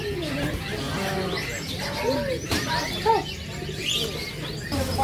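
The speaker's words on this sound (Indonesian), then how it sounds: "Banyak pilihan jenis burung, diantaranya itu merpati." Pigeons coo repeatedly in a busy bird market in Makassar that sells racing pigeons and budgerigars, with chirps and other bird calls mixed in and a steady crowd murmur underneath.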